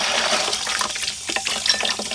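Water pours into a 5-gallon bucket of hydroponic nutrient mix for growing cucumbers, a close, steady splashing and gurgling stream with small bubbly pops as it fills.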